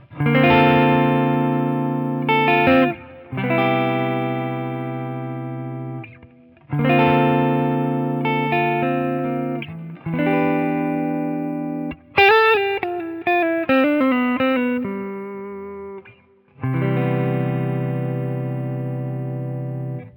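PRS SE Swamp Ash Special electric guitar with a warm, round humbucker neck pickup tone, strumming sustained chords in several phrases with a brief picked run, loud and alone.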